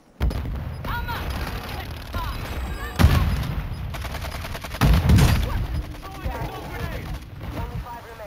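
Gunfire in Warzone 2 battle royale, repeated shots and bursts cracking close by throughout, with a couple of heavier impacts, under continuous excited player talk.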